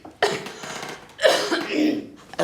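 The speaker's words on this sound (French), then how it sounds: "La fumée me fait tousser." Coughing fits from a person choking on cigar smoke beside a fire, two loud close bursts of harsh coughing and throat clearing about a second apart.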